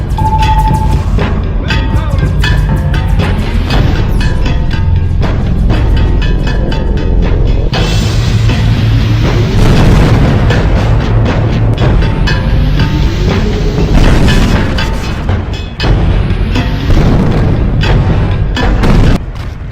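Bombs exploding in The Incredible Hulk video game: loud, dense booms and crashing blasts continue without pause, with heavy rumbling and sharp debris impacts throughout.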